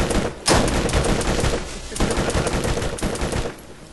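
Video game gunfire in Borderlands aimed at a skag: loud, rapid, dense automatic shooting runs almost continuously, with a few brief pauses between bursts.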